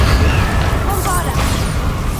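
A Bombarda spell in Hogwarts Legacy detonates as a loud, dense blast with rumbling debris that fills the whole moment, and a voice may be mixed in beneath it.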